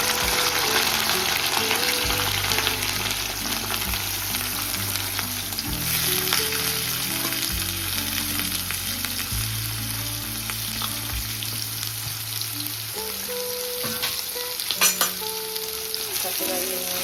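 A large batch of bitter gourd deep-frying in oil makes a constant dense hiss and bubbling, with occasional scraping stirs and a few louder clatters near the end, no talk.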